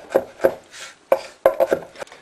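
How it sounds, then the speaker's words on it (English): Close knife strikes on a cutting board chopping garlic for stuffed marrow, a few spaced chops then a quick irregular cluster of taps. "chop that up."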